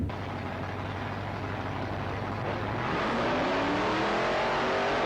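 A 351-powered Falcon drag car at a 1989 ANDRA drag racing meet revs up, the loud engine note holding steady and then climbing in pitch as the car accelerates, with no talk over it.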